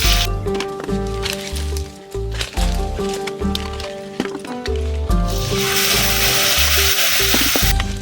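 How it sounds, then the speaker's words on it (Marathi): Masala with ginger-garlic paste frying in about two ladles of hot oil for chicken biryani, a loud, steady sizzle that builds into a bright hiss over the second half, mixed with low rumbling kitchen noise throughout. "आता मी 2 पळी तेल टाकते, त्याच्यामध्ये मसाला टाकते,"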